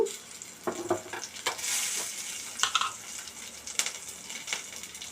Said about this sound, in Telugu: కొంచెం సాల్ట్, కొంచెం కారం వేసుకొని ఇలా ఫ్రై చేసుకోవాలి.